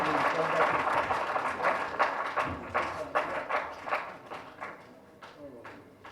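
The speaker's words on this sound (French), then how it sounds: "Sous vos applaudissements, s'il vous plaît" Applause from a seminar audience after a French-language introduction of a guest lawyer, a dense patter of clapping that gradually thins and fades, with some murmuring mixed in.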